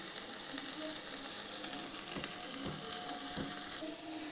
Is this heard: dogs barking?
no